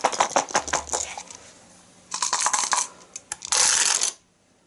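Four dice clatter in Arkham Horror 3rd edition, a run of quick close rattles and taps in bursts, then a final tumbling roll that stops abruptly into silence.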